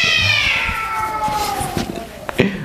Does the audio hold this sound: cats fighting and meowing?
yes